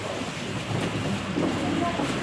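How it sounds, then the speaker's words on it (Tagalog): Steady rain falling at night, a dense even hiss with a low rumble beneath it, continuous throughout and moderately loud, with no clear voices. "huwag po kayo magtataka kung bakit pumapatak ang ulan"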